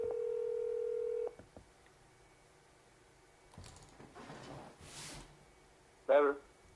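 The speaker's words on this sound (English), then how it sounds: "let's call Dorsey" A steady telephone dial tone holds for about a second before it cuts off. Brief tones and faint rustling follow, with a short burst near the end as a call is placed.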